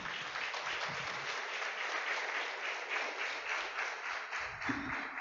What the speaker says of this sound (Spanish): Denle un aplauso a la presencia de ella.